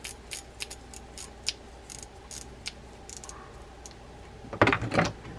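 An Abu Garcia Revo STX low-profile baitcasting reel being serviced, giving off scattered light metallic clicks and ticks, then a louder burst of rapid ratcheting clicks near the end.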